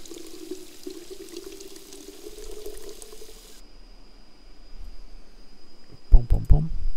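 Liquid steadily pours to fill containers for plants in the Drug Dealer Simulator video game, a smooth watery stream over a low hum for a few seconds, then stopping before brief louder knocks.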